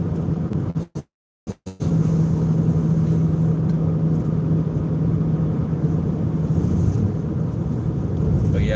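A 2003 Nissan SE-R Spec V with a header-back exhaust driving along, a steady low engine drone and road rumble heard from inside the car, briefly cut near the start before the even hum resumes.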